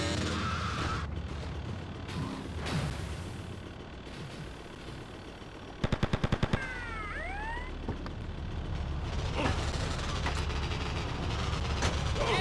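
Rapid burst of gunfire from a gun in GTA Liberty City Stories, a quick string of sharp cracks cutting through busy street and traffic noise, with a siren-like wail afterward.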